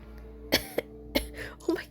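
A short burst of harsh coughing in the video game Punishing: Gray Raven, three or four sharp rough hacks in quick succession with throat-clearing sounds.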